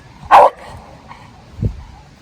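A dog gives one sharp, loud bark near the start, then a fainter low yip or grunt about a second later, with quiet room sound between.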